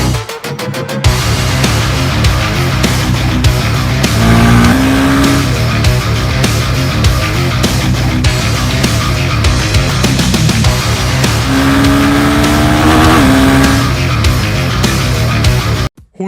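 A Honda Hornet 2.0 motorcycle engine revving hard and loud up close, with rising and falling throttle sweeps and sustained high-rev roars over about sixteen seconds, no talk.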